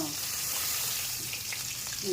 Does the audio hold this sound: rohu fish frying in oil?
yes